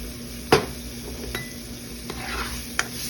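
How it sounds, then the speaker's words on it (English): Meat frying in a pan for a Philly cheesesteak is stirred, with a soft steady sizzle broken by a sharp utensil scrape and a few lighter clinks against the pan. "Give it another stir."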